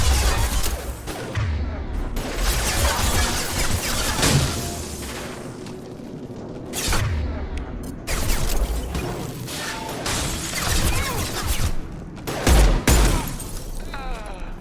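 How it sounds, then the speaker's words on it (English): Chaotic firefight in Mass Effect 2 on Korlus, with gunshots, booming impacts and mechanical clatter layered over a busy combat mix, several sharp loud hits standing out. "Taking fire."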